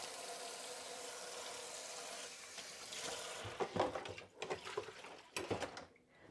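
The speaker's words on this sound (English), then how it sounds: "Just going to rinse my hands. I'm a bit greasy now, so hang on. Let's go to the sink." Tap water running over greasy hands at a kitchen sink, a steady soft rush followed by splashy, uneven rinsing and rubbing sounds close by.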